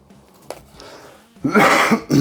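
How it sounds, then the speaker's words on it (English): A single harsh cough bursts out near the mic after a quiet moment with faint movement sounds, followed by a short throat-clearing rasp. "This was my cough that must come one time in a long video."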